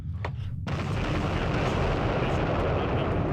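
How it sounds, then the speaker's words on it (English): A deep, loud underwater explosion in the naval submarine simulator Sub Command, a sudden blast that swells into a sustained low rumble and roar lasting several seconds. "Loud explosion on the bearing of Master 3."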